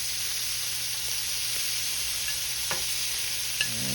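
Shrimp sear in a hot skillet with a steady, even sizzle and hiss, a couple of faint utensil taps near the end, and no talking.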